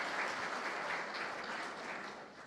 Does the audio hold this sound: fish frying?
no